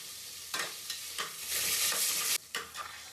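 Garlic, bay leaves and cinnamon slices for soya pulao frying in hot oil, with bursts of sizzling and spatula scrapes in short uneven strokes, loud and close with no voices.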